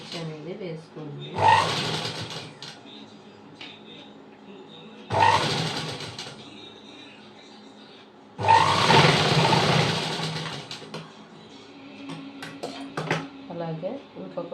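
A sewing machine stitches a boat neck blouse in three separate bursts, each loud, close and a couple of seconds long, with pauses of quieter room noise and a voice speaking between them.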